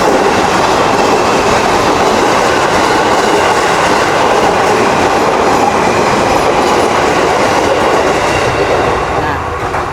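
A train rolling past up close, a loud continuous rumble with rhythmic clickety-clack of wheels over rail joints, sustained and steady for the full length.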